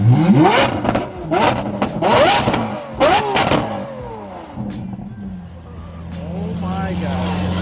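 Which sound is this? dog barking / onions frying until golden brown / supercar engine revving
supercar engine revving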